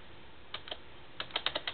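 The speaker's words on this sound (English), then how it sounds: "Is the keyboard not working?" A few scattered keystrokes tap on a Compaq computer keyboard, faint and thin-sounding: two isolated clicks first, then a quicker cluster of several presses.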